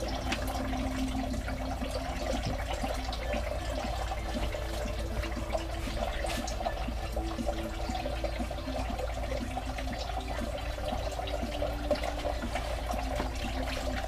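Coolant draining out of a Ford Taurus during a coolant leak repair, a steady continuous splashing and trickling pour, loud and close throughout with no talking.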